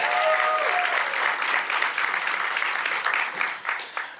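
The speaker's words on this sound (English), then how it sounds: "Can we give another round of applause to Kamika King?" Audience applause for Kamika King at the Dallas Arts Month kick off, a dense, steady wash of many hands clapping that carries for several seconds and thins slightly toward the end.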